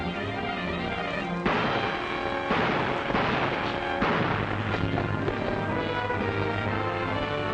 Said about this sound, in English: Gunshots!